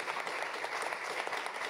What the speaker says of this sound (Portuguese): Martina, uma salva de palmas